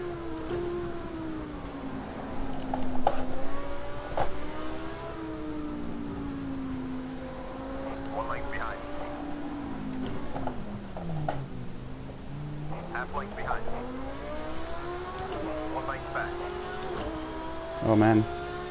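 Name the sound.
race car engines in a racing video game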